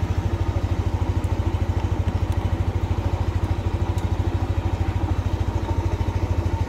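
A Yamaha Aerox scooter engine idling close by with a fast, even putter and light mechanical clatter, steady throughout.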